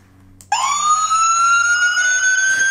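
A toy bicycle horn's electronic siren switches on abruptly by remote button and holds a rising wail, loud and near, after a moment of quiet.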